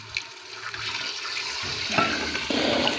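About 1.5 litres of water poured into a pot of mixed lentils and rice for Hyderabadi chicken haleem, a close rushing, gurgling stream that swells over a few seconds, with no talking.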